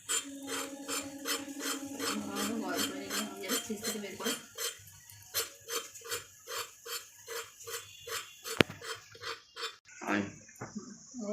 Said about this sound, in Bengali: আলু কাটছি, সোয়াবিনের আলু।